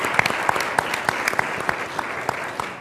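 Audience at a science institutions forum in Chile applauding a guest, scattered distinct handclaps over a soft crowd bed, individual claps crisp and close, fading slightly at the end.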